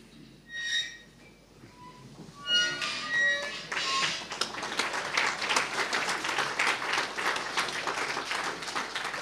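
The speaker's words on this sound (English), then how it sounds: "we just stand up and then in a round of applause as she comes in" An audience at an annual general meeting rises and applauds as the guest speaker enters. A few scattered bumps and knocks come first, then clapping builds after about four seconds into steady, sustained applause that continues to the end.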